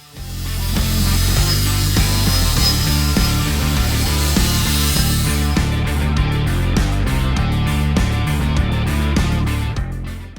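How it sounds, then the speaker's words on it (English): A Jeep's factory bump stop housing is cut and then ground square, making a loud, sustained grinding whine that turns into a rapid, chattering stutter in its second half, with no talk. "They are laid out, cut, and then finished with a grinder to get them square."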